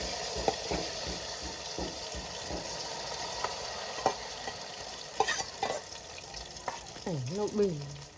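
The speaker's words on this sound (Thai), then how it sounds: "เอาไข่มาทอดใส่เลย" Egg frying in hot oil in a home kitchen pan, a steady close sizzle with scattered pops and clinks of stirring, and a bird chirp near the end.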